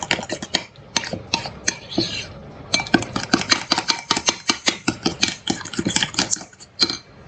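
A spoon mixes Greek yogurt and mayonnaise in a bowl for potato salad, giving a dense run of quick clinks and scrapes against the bowl, close and fairly loud, in an irregular stirring rhythm with no talk.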